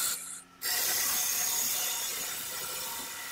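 A gouge cuts the bottom of a lime wood platter spinning on a lathe, giving a steady, loud, close hissing scrape that starts after a brief pause and holds evenly to the end.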